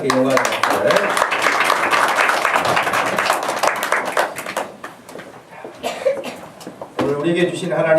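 A church congregation breaks into loud, dense applause for several seconds, with clapping tapering off and a few coughs and murmurs before a brief renewed burst near the end.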